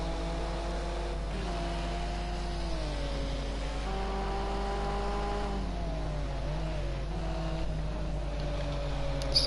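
Onboard engine of a Nissan Group A touring race car lapping the Zolder circuit, a loud sustained drone whose pitch falls and rises through gear changes and corners, with a steady low hum underneath and no talk.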